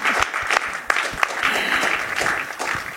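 A church congregation breaks into loud, sustained applause, dense clapping filling the room for several seconds at close range.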